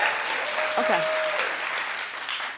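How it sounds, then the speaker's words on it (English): A television talk-show studio audience breaks into steady, dense clapping that fills the whole stretch, with a brief faint voice rising through the applause. "Clap if you watched Jersey"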